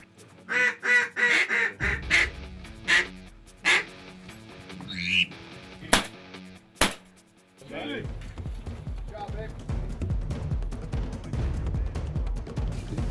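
Ducks quack repeatedly in a loud, rhythmic burst of calls during a duck hunt, then scattered clicks and a voice take over against an outdoor background.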